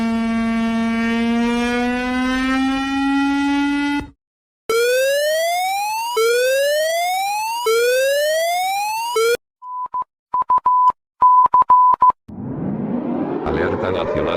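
Emergency Alert System alarm tones, heard as a loud, close sequence: a rising wail, then repeated falling sweeps, short beeping bursts, and a final harsh tone.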